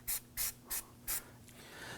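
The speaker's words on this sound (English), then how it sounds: "let's go ahead and spray the wheel hub with a little bit of anti-seize compound" An aerosol can sprays anti-seize compound onto the front wheel hub of a 2008-2011 Ford Focus during a knuckle replacement, in four short hissing bursts with brief pauses, close and fairly quiet.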